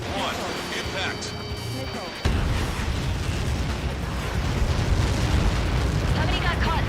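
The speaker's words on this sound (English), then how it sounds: "How many got caught in that explosion?" A large in-game blast from the Ace Combat 7 flight game, a sudden heavy boom that cuts in partway and rolls into a sustained loud rumble, with radio voices talking around it.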